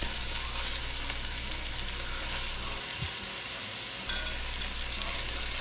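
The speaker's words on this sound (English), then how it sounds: "I'm giving these neck bones a nice little sear." Pork neck bones sear in a hot pan with a steady, close broadband sizzle throughout, a brief low thump near the middle and a few small clinks of utensil contact toward the end; no talking.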